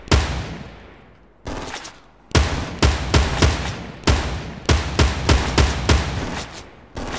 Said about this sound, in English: I've got an assault rifle with scope.